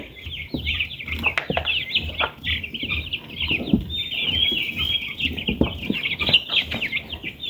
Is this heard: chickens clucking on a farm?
yes